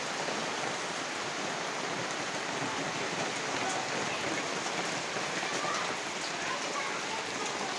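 Heavy rain pours down steadily and loudly, a dense, unbroken hiss of drops drumming on surfaces that stays even from start to finish with no voices over it.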